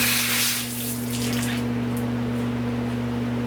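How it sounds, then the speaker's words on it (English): Water sprays off a car seat belt being rinsed, a hissing burst that is strongest at the start and then settles beneath a steady low hum. "see that water is still beating off of there"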